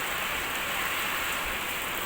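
Heavy summer rain pours down outdoors, a dense, even hiss of falling water that fills the whole stretch with no break and no voices.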